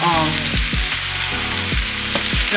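Collard greens cook down in a pot with a loud, steady sizzle and frying crackle throughout, plus a few low thumps from stirring.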